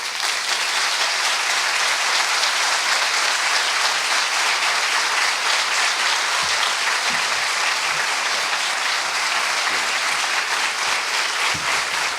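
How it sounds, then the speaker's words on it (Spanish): An audience gives sustained applause to the lecturer Facundo Manes, a dense, unbroken wash of clapping that holds at a constant level for the full stretch, with a few low thumps near the end. "Los aplausos son para nuestro disertante, Facundo Manes. El reconocimiento de la gente con este aplauso sostenido."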